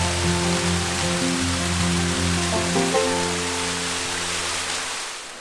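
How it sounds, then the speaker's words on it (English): Twin Falls waterfall pouring in a steady, close broadband rush that holds for the whole stretch, with a low droning tone running beneath it and no talking. "it's a fantastic waterfall"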